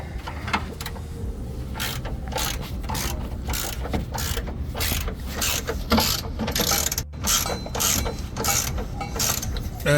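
Close, steady ratcheting of a wrench fitting front and rear sway bars on a 1983 Datsun 280ZX Turbo, rapid clicking strokes repeating through the whole stretch with brief pauses and metallic clatter, no talk.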